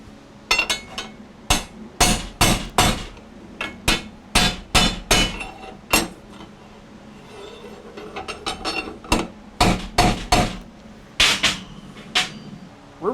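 A hammer strikes a bent metal arch tensioner for a motorized bicycle to straighten it, giving sharp, ringing metallic blows in uneven bursts of two to four close together with short pauses between, loud and close.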